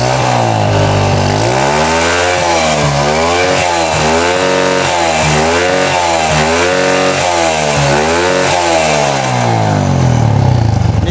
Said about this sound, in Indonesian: sekarang motornya sedang dinyalakan, diuji coba